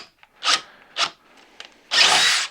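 A DeWalt XR drill on a 2 amp hour battery bores with a 3/4 inch Bosch Daredevil spade bit. Two short bursts come first, then a longer, louder grinding run, close up with no talking.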